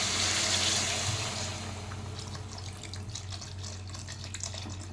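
Water pours into a pan of cooking fish curry, a steady close rushing splash that starts strong and settles into a continuous lighter trickle.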